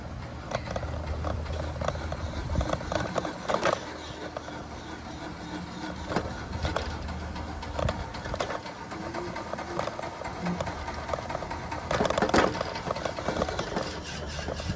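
A 1960s electric chariot with no suspension creeps along slowly, giving off a continuous motor whine and rattling rumble with occasional bumps and clunks, close up and without speech.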